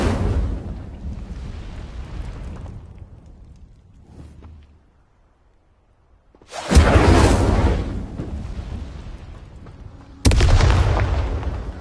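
Incendio fire spell bursting in Hogwarts Legacy, two loud roaring blasts with a quieter rumbling stretch before them and a near-silent gap between.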